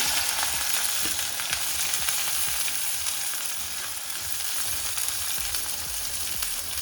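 Chopped onion, crushed ginger, garlic and green chilli sautéing in a hot pan of oil for a Kerala-style oyster fry, giving a steady, close sizzle with soft stirring scrapes and no talking.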